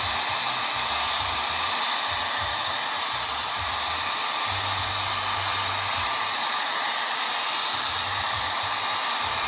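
Hot air gun blowing steadily to soften old glue around the edges of a tail lamp during restoration, a continuous airy roar with a low motor hum that holds throughout, close and alone with no talk.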